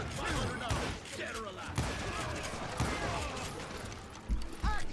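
Bursts of gunfire in the Western shooter Call of Juarez: Gunslinger, with several sharp shots and thuds spread through a busy game soundscape and someone talking over them.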